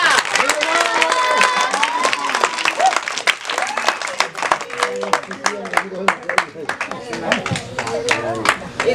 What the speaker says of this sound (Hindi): ताली बजाओ लड़का।